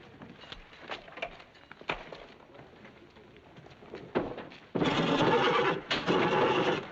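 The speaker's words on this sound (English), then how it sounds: "That's the meanest horse ever born." A horse neighs and whinnies in a 1950 film scene, with scattered hoof and stable noises first, then a loud, sustained whinny near the end, briefly broken and resumed.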